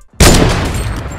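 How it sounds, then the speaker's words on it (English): A Heavy Sniper rifle in Fortnite Battle Royale fires a single very loud, close shot after a brief silence. The blast rolls on into a long booming tail that fades slowly. "the Heavy Sniper is very,"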